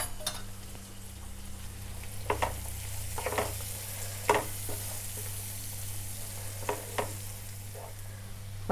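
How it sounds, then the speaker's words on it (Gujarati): Turmeric and salt being stirred into a frying pan while making lemon rice, a quiet sizzle under a low hum, with a few sharp spoon scrapes and taps against the pan. "અડધી ચમચી જેટલી હળદર એડ કરીશું અને મિક્સ કરી લઈશું"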